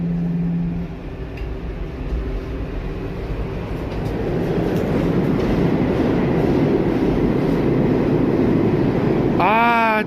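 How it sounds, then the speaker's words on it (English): A New York City subway B train rumbles steadily into Kingsbridge Road station on the Grand Concourse with loud clattering wheels. Brake squeals rise at the end. "That wasn't the D train. That was the B train I was supposed to take."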